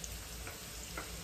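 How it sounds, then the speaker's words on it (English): Sliced potatoes and onions frying in hot oil for a Spanish tortilla, a steady close hiss and crackle of sizzling with faint stirring, continuous and even throughout the short moment, no voices. "You can see it's sizzling."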